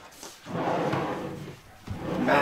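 Large homemade wooden drawers in a converted school bus slide open and shut with a heavy rumbling glide, then a firm knock, close and clear.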